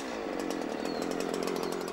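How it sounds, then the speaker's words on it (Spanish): A Husqvarna chainsaw cutting a log holds a steady, high-revving buzzing drone throughout, moderately loud and unbroken, with no talking. "le recomendamos que primero pruebe la sierra durante un rato sobre un tronco apropiado"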